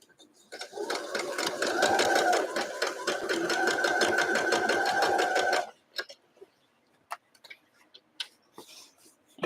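A sewing machine running a straight stitch to attach lace to a Sunbonnet Sue quilt block, a close, steady rhythmic whirring clatter for about five seconds, then stopping, followed by a few small clicks and handling sounds.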